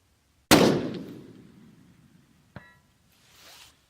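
A rifle fires a single loud, sharp shot that decays into a long rolling echo, and a faint metallic ping from a distant steel target follows about two seconds later.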